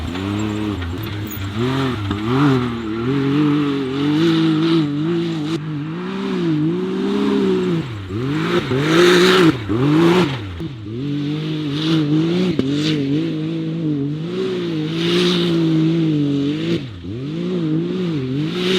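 A side-by-side UTV engine revs loudly and continuously while driving laps, the pitch rising and falling in repeated waves as it speeds up and slows through the turns.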